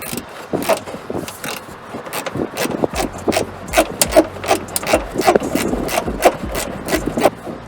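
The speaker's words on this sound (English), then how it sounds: "And then I'll tighten up with the wrench." A wrench tightens bolts on a 2014-2020 Chevrolet Impala front bumper, giving a close series of rapid ratcheting clicks and scraping rubs, starting sparse and becoming busier, with no speech over it.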